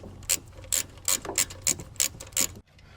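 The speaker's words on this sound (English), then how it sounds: "once you tighten down on these two screws, that coil mount will be tight and secure" Ratchet wrench tightening the coil mount screws on a Land Rover Discovery Series II engine during valve cover gasket work: about seven sharp clicking bursts in a steady rhythm, close up and fairly loud, ending with a brief quieter pause.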